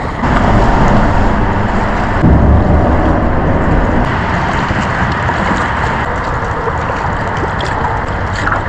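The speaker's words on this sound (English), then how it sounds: "I am inconveniently at this very noisy boat launch. It goes right underneath Interstate 94." Constant roar of Interstate 94 traffic passing overhead at a lake boat launch, a broad, steady rushing wash of tires and engines with a slight swell early on, loud and unbroken, with no voices.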